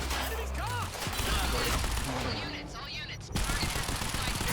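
Gunfire from snipers in the video game Quantum Break, a busy dense barrage of shots layered with game music and effects, steady and loud throughout, with a sharp burst near the end.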